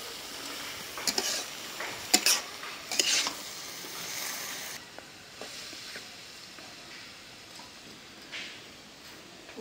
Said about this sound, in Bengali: ভাজা হয়ে গেল কাঁচা টমেটো